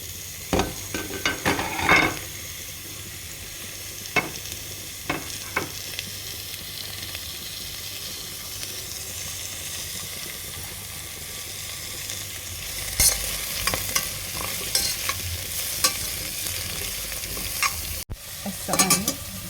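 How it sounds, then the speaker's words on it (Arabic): Turnip and onion, with long green onions and a pinch of turmeric, sizzle in hot olive oil in a pot for a turnip soup, with a steady frying hiss and scattered scrapes and clinks of stirring, busier near the end. "هخلي الحامض شلغم والبصل سويا احمسه شوية."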